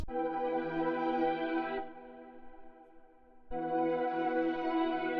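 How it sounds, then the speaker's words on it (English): A bright, sustained synthesizer pad holds a rich chord, drops to a softer, duller tone midway, then swells back to full brightness. "It's a pad thingy and it sounds like this."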